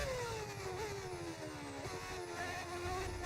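Modded racing car engine in F1 25, a Benetton on track, screaming at high revs with a continuous loud whine that sweeps down and climbs again as the car shifts and accelerates.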